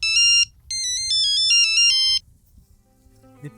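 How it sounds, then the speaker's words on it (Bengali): A mobile phone rings with an incoming call, playing a bright melodic ringtone in two close, loud bursts with a brief gap between them, then falls quiet with faint room noise. "শহর থেকে বন্ধু ফোন দিয়েছে"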